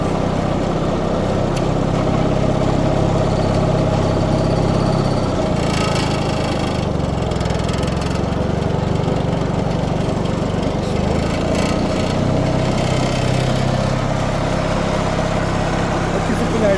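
An MTZ-082 mini tractor engine runs steadily at a low, even chug, continuous and fairly close throughout, with brief bursts of other noise over it.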